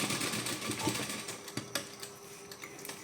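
A sewing machine stitches a sleeve cuff on a garment, running as a steady close mechanical whir with small clicks and ticks, with no talking.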